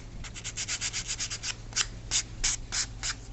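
Hand sanding along the edges of foam wing pieces for a small delta model plane, a quick run of soft rasping strokes followed by slower, spaced rubs, close and quiet with no talking.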